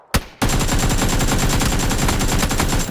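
Sustained automatic gunfire in the battle-royale video game PUBG: a single loud shot, then a dense, unbroken stream of rapid, evenly spaced rounds that stays loud and close to the end.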